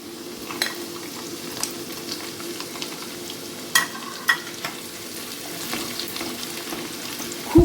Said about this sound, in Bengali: সেই প্রত্যেকটা মশলাই আবার এই তেলে ফোড়নে দেবো